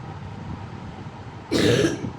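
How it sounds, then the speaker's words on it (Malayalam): Harsh cough from someone with a cold, a single loud burst around the middle of the clip over a quiet room background, with no talking. "എനിക്ക് നല്ല ചുമയുണ്ട് കേട്ടോ. അതാണ് ഇടയ്ക്കിടയ്ക്ക് ചുമച്ച് ഞാൻ നിങ്ങളെ ശല്യപ്പെടുത്തണേ"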